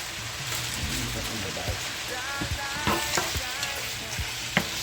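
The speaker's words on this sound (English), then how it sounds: "I'm adding some frozen vegetables" Ground meat for a shepherd's pie fries in a pan as frozen vegetables go in, giving a steady close sizzle with scraping stir strokes and light clatter, and a faint voice in the background.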